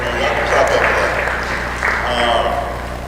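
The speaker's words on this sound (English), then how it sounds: "y'all can clap up for that." An audience at a community round table discussion in Warren, Michigan claps steadily for a few seconds, with talk going on over the applause.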